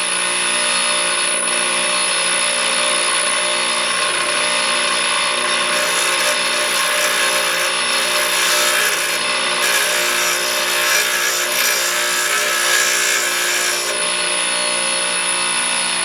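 A power tool steadily tapers a threaded rod for Ranger XP1000 rock sliders, giving a continuous loud close-up whine and grinding with slight variation in pitch throughout, with no talk.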